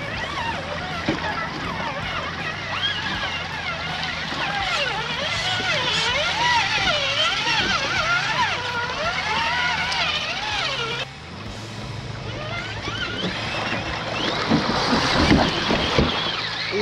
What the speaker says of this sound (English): Going down the mini waterfall.